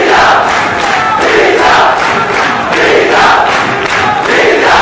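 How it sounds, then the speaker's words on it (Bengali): A large student crowd at Dhaka University chants a slogan in loud, rhythmic unison, the repeated shouts rising and falling in steady waves. "হিজাব হিজাব স্লোগানে প্রকম্পিত হয় ঢাকা বিশ্ববিদ্যালয়।"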